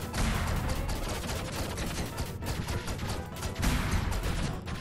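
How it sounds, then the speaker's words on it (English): Enemy gunfire in the Owlboy video game, a dense, continuous barrage of rapid shots and crackling impacts that fills the whole stretch, loud and steady with a brief swell near the end, with no speech over it. "are you gonna shoot a ton more bullets?"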